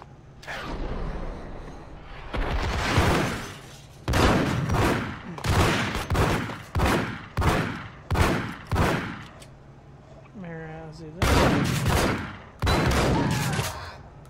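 Repeated gunshots from the video game Max Payne, loud sharp reports spaced about a second apart in a steady run, with a brief pause and then two more shots near the end.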